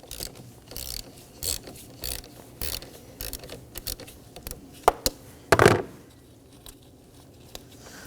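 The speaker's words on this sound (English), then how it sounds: "Lift off the cover and loosen the nut." Ratchet wrench loosening the positive battery terminal nut on a 2015-2023 Nissan Maxima, a series of short mechanical clicks and rasps close by, then a louder burst of turning and scraping, with no talking.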